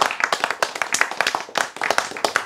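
An audience claps in a quick, uneven burst of close, sharp hand claps that runs steadily for a couple of seconds, with no talk over it.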